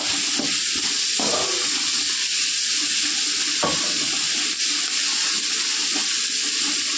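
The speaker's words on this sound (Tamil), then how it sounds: "இதுக்கு தேவையான அளவு தண்ணி ஊற்றணும்" Steady hissing sizzle of water poured into a hot cooking pot of sautéed ingredients for kichadi, with a few soft clinks and knocks, and no talking.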